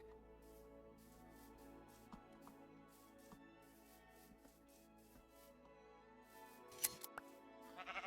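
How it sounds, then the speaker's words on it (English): Sheep in the Minecraft video game bleat faintly against soft background music, with a few quiet clicks and shuffling sounds, growing slightly busier toward the end, no voices. "And to go get that sheep over there."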